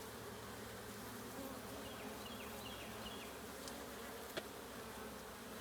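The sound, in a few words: honeybees buzzing around opened beehive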